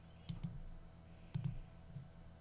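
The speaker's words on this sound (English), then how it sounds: "I'm going to right click and do insert member after" A computer mouse gives two quick pairs of crisp, close clicks, one pair early and one a second later, followed by a fainter click, in a quiet room.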